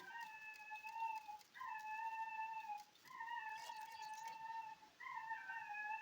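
A dog gives four faint, evenly spaced drawn-out whines or howls, each about a second long and separated by short gaps.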